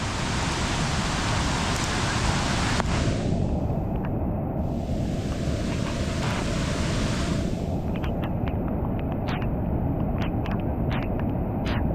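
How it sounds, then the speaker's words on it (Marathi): Waterfall and floodwater pouring over a small bridge on a road during heavy monsoon rain, heard as a loud, constant broadband roar of rushing water with no talking. "तुम्हाला एक धबधबा दाखवतो"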